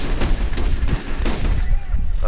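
Bulldog shotgun fire in Borderlands, a dense run of loud booming shots in rapid succession, heavy and continuous over game noise.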